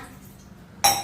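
A metal pot set down with a single sharp clink as tea is put on to boil, the brief bright hit coming at the very end after a quiet stretch.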